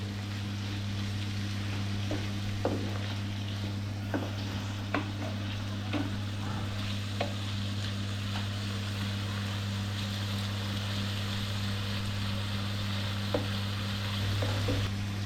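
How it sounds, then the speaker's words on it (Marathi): Chopped chillies and potatoes for an oyster dish fry in oil, a continuous soft sizzle under a steady low hum, with occasional spoon clicks and stirring taps, nearby and without voices. "आणि ते सुद्धा आपल्याला तेलामध्ये चांगलं शिजवायचं"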